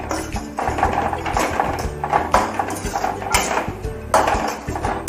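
Roti noodles being tossed with noodle masala in a pan, with repeated clattering scrapes and knocks of a utensil against the metal in an irregular rhythm, close and fairly loud.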